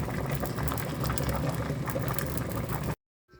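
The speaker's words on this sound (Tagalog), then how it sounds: "Ayan na po, kumukulo na." Pot of suman malagkit, sticky rice wrapped for cooking, bubbling at a steady boil, a dense continuous seething and burbling heard close for about three seconds before cutting off abruptly.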